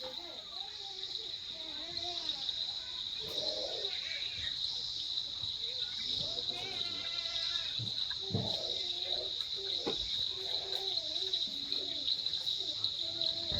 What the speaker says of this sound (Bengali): কানে ঝিঝি পোকার ডাক,